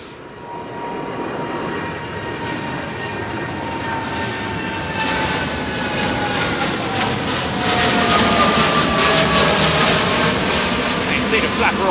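A jet airliner departs overhead from London Heathrow's runway 09R, its engine roar loud and steadily building as it passes close above, with a whining tone. Voices talk underneath.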